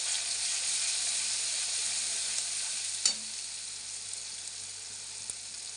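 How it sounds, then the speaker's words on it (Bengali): Spice paste of ginger, garlic, salt and turmeric fries in hot oil for a bhola fish curry, giving a steady, even sizzle with one sharp clatter of a spoon partway through, and no voices. "এখন আমি তেলের উপরে দিয়ে দেবো মশলাটা দিয়ে। এখন ভালোভাবে এই যে একটু কষিয়ে নেব।"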